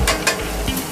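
Meat fries in a wok in a small restaurant kitchen for a braised pork-and-eggplant dish. A close, steady sizzle is broken by a few quick clanks of stirring.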